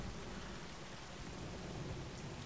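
Thunder and a heavy rain storm in The Last of Us video game, a continuous low rumble under a dense wash of rainfall, steady and enveloping with no voices.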